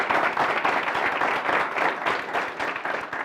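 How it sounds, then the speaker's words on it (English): Students at a Bennett University budget discussion event clap together, a dense burst of applause from a room full of people lasting a few seconds. "Give yourselves a huge round of applause."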